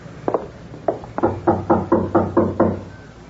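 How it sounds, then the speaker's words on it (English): Knocking on a door as a radio drama sound effect: a few scattered raps, then a quick regular run of about six knocks, close and distinct, with no talking. "you knock, Peters. I'll cover you"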